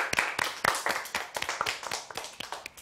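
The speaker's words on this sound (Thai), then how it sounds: "เอาปรบมือให้ตัวเองหน่อยค่ะ" Children in a classroom clapping for themselves: a short burst of quick, uneven hand claps from a small group, close and clear, tapering off after a few seconds.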